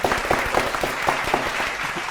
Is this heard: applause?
yes